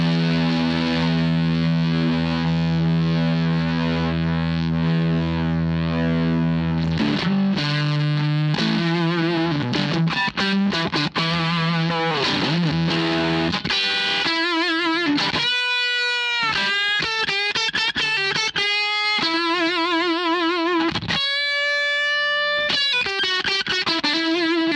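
Electric guitar played through a Gluttonous Fuzz pedal, heavily distorted and loud: sustained fuzzy chords give way to choppy stabs and then wavering, modulated lead notes, with no talking.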